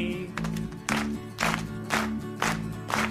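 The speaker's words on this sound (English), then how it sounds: "Right, I'll get them all clapping." Rhythmic clapping from a television studio audience in a 1977 variety show, steady beats roughly every half second over a musical backing, loud and close, with no voice on top.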